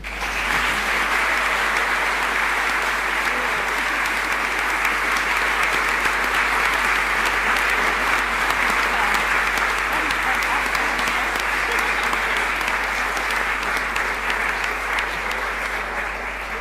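A large audience at an evening women's event gives sustained, dense applause that holds steady and loud for the whole stretch, with no voices breaking through.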